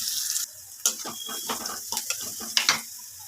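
Sliced onions with salt are sautéed in a pan for a Kerala prawn and drumstick theeyal, giving a steady sizzle under repeated scraping, clattering strokes of a spoon stirring, close and busy throughout.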